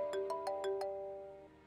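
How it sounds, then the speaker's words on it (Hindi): A phone ringtone for an incoming call repeats five quick bright chimes over a steady melodic tone, then fades out alone with no talk. "फोन आ रहा है"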